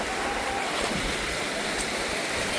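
Sea waves surge and break on the shore at Odesa, a steady broadband wash of surf with light wind noise, close and continuous with no voices.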